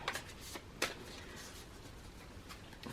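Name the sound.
shuffling a deck of tarot cards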